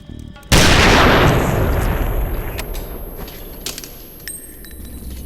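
A gunshot from a Fight Club film scene: a sudden loud blast after a brief quiet lead-in, decaying into a long, rumbling reverberant tail that slowly fades.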